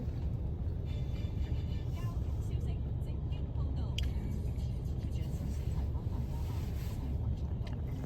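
Street traffic rolls past near a narrow alley in a dense city neighbourhood, a constant loud rumble of engines with no break across the whole stretch.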